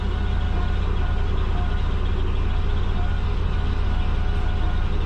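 A car engine idles steadily and loudly up close, a constant low rumble with a faint whining hum and no variation.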